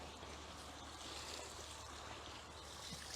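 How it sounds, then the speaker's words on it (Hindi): Cow dung slurry poured over a heap of farm waste, a steady wet splashing and trickling rush heard up close and continuing without pause. "पूरे इस वेस्ट को हम गोबर से घोल बना के डालेंगे"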